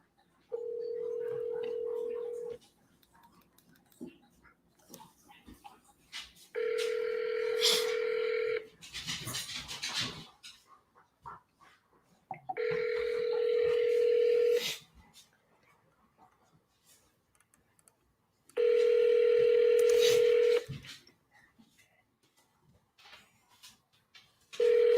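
A live telephone call placed to a seller rings out, with about four long ringback tones repeating at regular intervals, each followed by a pause before voicemail picks up; faint background noise fills the gaps.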